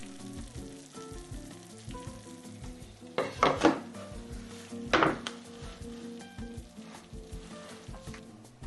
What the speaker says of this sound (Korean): 오븐에서 꺼내자마자 이 지글지글 하는 소리 정말 좋지 않나요?